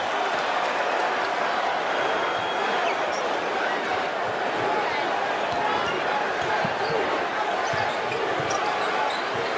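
An Olympic basketball arena crowd in London, at a USA versus South Sudan game, roars steadily after a deep Curry three-pointer. The dense, loud cheering fills the whole stretch while a commentator talks over it.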